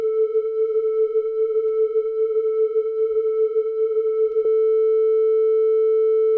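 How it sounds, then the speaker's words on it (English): Steady sine-wave tone processed with a chorus effect in Bitwig Studio, a pure sustained pitch with faint upper partials and a gentle shimmer, holding for about four and a half seconds before cutting off, no voices present. "I'm having just way too much fun messing with the chorus on sine waves"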